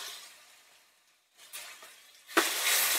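Chili paste with ground cumin, coriander and turmeric hits hot oil in a frying pan, a brief soft sizzle fading out, then a sudden loud burst of frying that keeps crackling.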